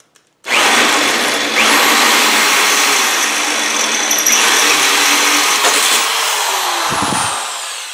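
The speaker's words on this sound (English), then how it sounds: "This cast aluminum is pretty easy to drill." A power drill whines loudly and steadily through cast aluminum on a Delta 6000 table saw, its pitch shifting slightly as it bites, then winding down at the end.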